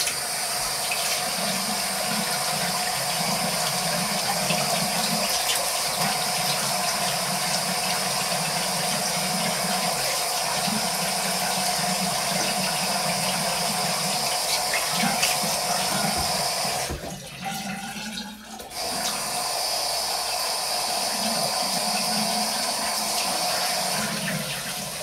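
Running water flows from a tap while shaving cream is rinsed off, a continuous splashing hiss with a low rumble beneath, broken by a brief dip near the end before resuming.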